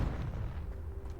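A Confringo fire spell cast in the video game Hogwarts Legacy, one low, booming burst that rumbles and fades over about a second, loud and close with no talking.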